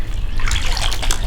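Water sloshes and splashes in a spring creek as a brown trout is released, a close, continuous churning with bright splashy bursts and no talk.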